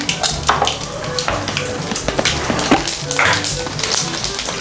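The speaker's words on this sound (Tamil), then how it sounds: "கொஞ்சமாக வந்து கடுகு போட்டுக்கிறேன்" Mustard seeds tempering in hot oil for a kuzhambu, a close, steady sizzle peppered with sharp pops and crackles, with a few clinks of a utensil against the pan running throughout.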